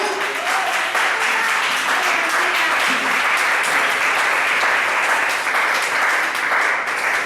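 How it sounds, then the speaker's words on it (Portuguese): Church congregation at Igreja Batista Peniel applauding loudly and steadily, a dense wash of many hands clapping that holds at full strength throughout, with no talk over it. "aplauda bem forte, bem bonito e dê glória a Ele"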